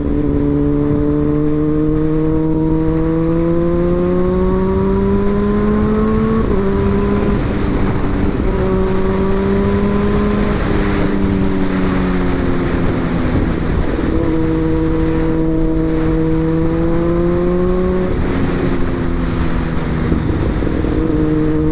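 Kawasaki ZX-10R sport bike with a full titanium exhaust revving hard, loud close-up engine notes rising and falling in repeated bursts with crackling pops on the overrun.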